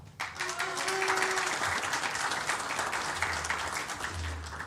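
Audience applause for a finalist at a men's air rifle shooting final in Wroclaw, Poland: a dense, steady wash of clapping that starts almost at once and holds at an even level throughout.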